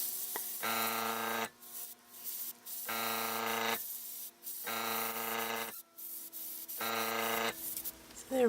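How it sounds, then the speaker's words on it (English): An airbrush sprays ink onto paper hearts for a shaker card in four separate bursts of a few seconds each, a close, steady hiss with a faint hum, broken by short quiet gaps. "I am going to start airbrushing them"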